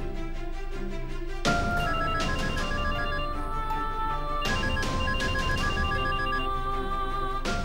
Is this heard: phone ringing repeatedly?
yes